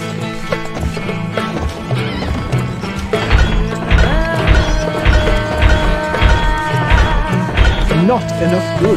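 Horses gallop in the Stronghold Crusader strategy video game, with loud, rapid clip-clop hoofbeats, a whinny and clashing combat hits over busy game music and voiced unit lines.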